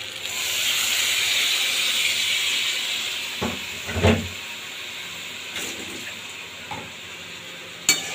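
Oil poured over a cauliflower and prawn curry in a pan sets off a steady, close sizzling hiss that gradually eases, broken by a few short clinks and taps.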